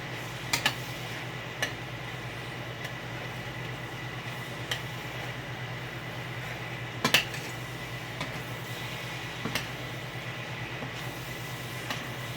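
Spaghetti squash cooked Mexican style is stirred in a pan. Occasional light utensil clicks and taps sit over a steady low sizzle.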